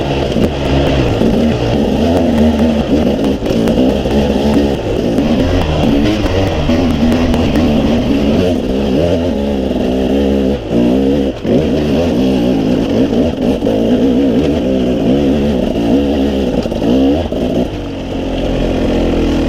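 KTM dirt bike engine running continuously in first gear on a rough trail, a loud, close, steady motor drone with small throttle surges throughout and no talking.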